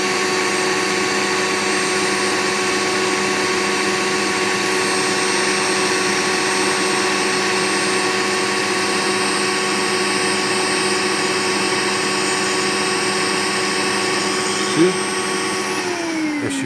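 A professional podiatry nail drill with a built-in dust vacuum runs at a constant, loud, close whine with a steady suction hiss, uninterrupted for the full length, with a brief knock near the end.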